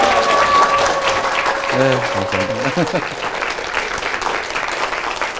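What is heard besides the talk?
audience applause welcoming a mayor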